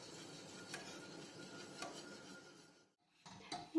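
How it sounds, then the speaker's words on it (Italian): A spoon scrapes softly through thickening pastry cream in a pot on the stove, faint and steady with occasional sharp taps against the pot's side and a brief pause before stirring resumes. "Una volta sui fuochi andiamo a mescolare per far addensare la nostra crema"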